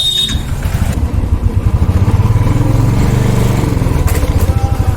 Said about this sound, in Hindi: तो बैठ चुके हैं बाइक्स के ऊपर, कर रहे हैं इसको स्टार्ट और बढ़ रहे हैं हमारे सफर के ऊपर